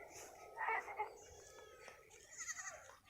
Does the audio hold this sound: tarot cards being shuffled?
no